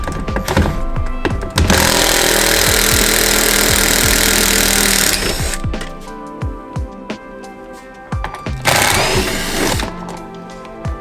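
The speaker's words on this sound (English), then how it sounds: "Now we'll get our impact with our 8mm" An impact wrench with an 8mm socket zips out door panel bolts on a 2014 Ford F-150 in two loud bursts, a long whir then a short one, with clunks and rattles between.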